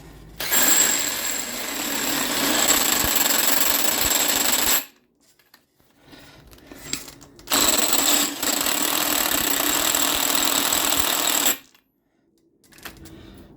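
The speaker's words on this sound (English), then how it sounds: "line everything up before we use our gun. We're going to rattle that on." An impact gun rattles a rear strut nut on during strut replacement on a 2004 Oldsmobile Alero, in two loud, close, sustained hammering bursts of about four seconds each with a short pause between and no talk.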